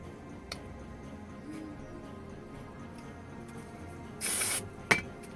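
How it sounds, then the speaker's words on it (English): A short hissing burst of aerosol super glue activator spray on a prop piece, about half a second long, over a steady low room hum, followed by a small sharp click. "I'm using some spray saline and some super glue on this piece"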